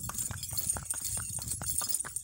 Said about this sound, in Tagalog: ito po ang kabayo.